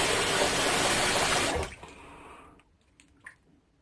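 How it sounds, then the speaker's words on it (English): Running water from a tap rinsing out a 3D printed razor, a loud steady splash for about a second and a half that cuts off, followed by a few faint drips. "I'm gonna make sure that's all rinsed out."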